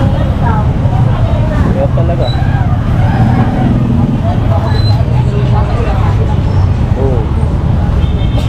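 Busy traffic with tricycles rumbles through a crowded Philippine market in Malinta, a constant engine drone and passing vehicles mixed with market chatter, while people talk close by.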